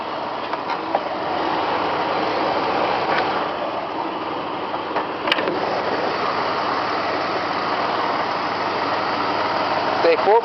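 A 1996 Jeep Grand Cherokee Laredo 4x4 with a 4.0 liter engine idles steadily with the hood open, a continuous even rumble and hum throughout, with a few faint clicks and background sounds.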